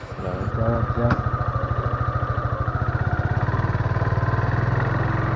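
A motorcycle engine runs at a steady idle before setting off on a test ride, its low, even throb pulsing close and loud throughout. A voice is heard briefly at the start.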